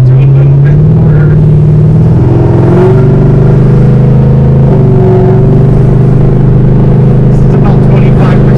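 A 5th gen Camaro SS V8 accelerates at light-to-moderate throttle, its steady low engine drone rising slightly in pitch and holding loud and close throughout, with people talking over it.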